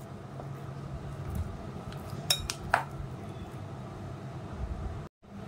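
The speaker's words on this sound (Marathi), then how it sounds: "सुरुवातीला मी चमच्याने तो व्यवस्थित स्मॅश करते." A spoon mashes hung curd in a bowl for homemade amrakhand, giving a few light metallic clinks and scrapes against a low steady background, with no talk.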